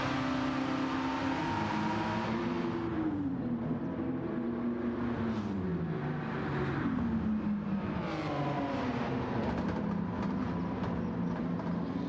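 In the Gran Turismo 7 racing game, a car with a racing exhaust and what may be a twelve-cylinder engine hums steadily, its pitch rising and falling through gear changes, moderately quiet and with no talking.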